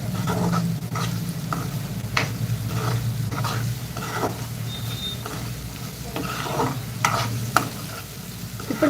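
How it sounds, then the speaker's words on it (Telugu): Mutton pieces stir-fried with masala and ginger-garlic paste in a pan give a steady close sizzle, broken by repeated scraping strokes of the spoon throughout. "ఇక్కడ మటన్ ముక్కలకి చక్కగా పట్టేలాగా కలుపుకుంటూ ఫ్రై చేసుకోవాలండి"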